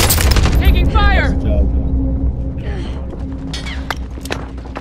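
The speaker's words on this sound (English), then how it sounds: "Taking fire." Video game gunfire: rapid shots and thumping booms crowd the first seconds, then sporadic bursts and distant pops continue through a rumbling battle din.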